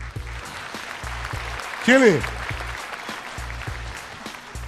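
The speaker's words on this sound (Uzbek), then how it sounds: "Olqishlaringiz azizlar." A studio audience applauds on a TV game show with a spinning prize wheel. The clapping is a steady wash under a pulsing music beat, and a host gives a short call in the middle.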